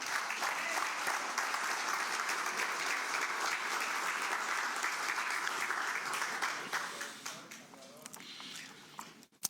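A church congregation claps for the Lord in loud, sustained applause that fills the room for several seconds, with voices mixed in, before it thins out into scattered claps near the end.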